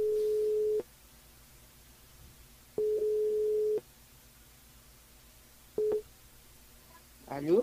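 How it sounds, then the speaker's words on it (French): Telephone ringing tone heard while a radio station calls a listener: steady tone bursts of about a second, separated by two-second silences, repeating three times before the line clicks and connects. "On appelle Sabrina du côté de Saint-Louis également."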